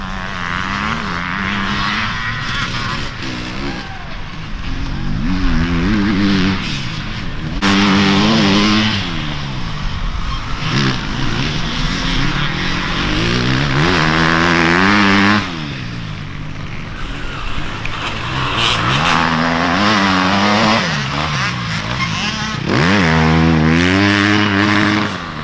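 Several dirt bike engines rev and race on an old golf course, their whines rising and falling as the bikes shift gears, loud and close with repeated passes.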